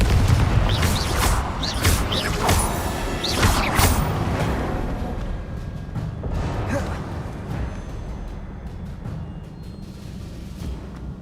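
Confringo spell blasts in Hogwarts Legacy, booming magical explosions with whooshing bursts and rumbling low impacts, dense and continuous at first then tapering off, with brief spoken incantations in the mix.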